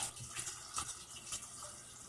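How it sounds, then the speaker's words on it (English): Spring water poured through a funnel while making cherry mead, a steady soft splashing trickle with small gurgles, close and fairly quiet, with no voices. "So now I'm going to pour in spring water."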